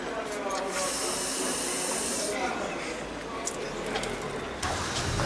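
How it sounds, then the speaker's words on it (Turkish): Water balloons are filled from a hose on a hot day before a water fight, a steady close hissing spray of running water that lasts throughout, with voices talking over it. "Şu anda su balonlarımızı dolduruyoruz."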